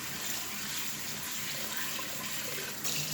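Cold tap water runs steadily over basmati rice in a pot to cover it before washing, a continuous close hiss of flowing water.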